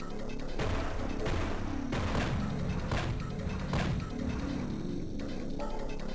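Enemy gunfire pounds away nonstop in a 3D cover shooter on the Game Boy Advance. Loud, compressed bursts and repeated blasts come in rapid salvos, with no voices on top.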